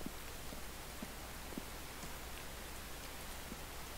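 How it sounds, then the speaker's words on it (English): Steady drizzling rain in the survival video game The Infected, a soft continuous hiss with scattered faint droplet ticks, heard alone with no talking. "I know it's kind of wet, rainy, drizzly."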